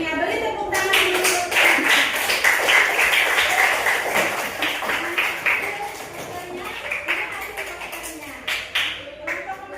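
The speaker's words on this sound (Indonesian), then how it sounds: "Itu tadi kelompok 3 telah menyampaikan hasil diskusinya. Beri tepuk tangan dulu." A classroom group claps for students who have just presented, a dense burst of many hands that gradually thins into scattered claps, with voices talking over it.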